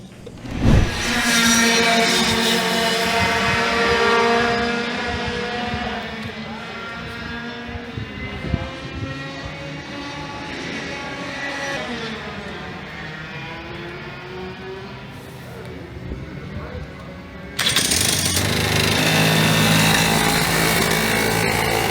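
Racing karts pulling out onto the track at Dallas Karting Complex, their small engines buzzing and revving in overlapping harmonic whines, with a louder, closer surge near the end.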